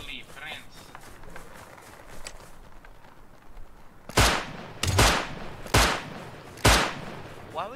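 Gunfire in the survival game Rust: four sharp, loud shots spaced about a second apart, ringing out after several seconds of quiet ambient rustle and faint movement.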